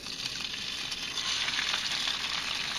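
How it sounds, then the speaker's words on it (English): Steady, loud sizzling of an egg frying in a hot pan, a continuous crackling hiss with no voices. "See that sizzle?"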